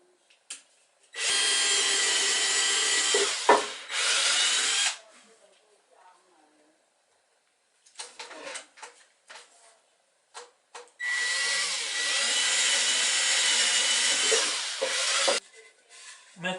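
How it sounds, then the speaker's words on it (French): A drill bores a screw hole into the wooden keel of a small toy sailboat, running in two long steady bursts of several seconds each, separated by a quieter stretch of brief handling clicks and knocks. "Donc en fait, je perce dans ce sens-là"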